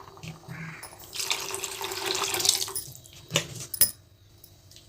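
A stream of water splashes into a pan of ground masala for egg curry for about two seconds, preceded and followed by light clinks and a sharp metallic tap.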